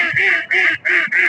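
Farm ducks quack loudly and close, four rapid nasal calls in a steady rhythm with brief gaps between them.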